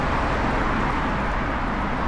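Steady, dense road traffic roar on a town street during a dog walk, a continuous loud wash of passing cars with no breaks.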